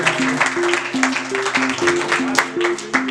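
Students clap at a school birthday celebration, the applause steady and moderately loud beneath a melodic tune played over it.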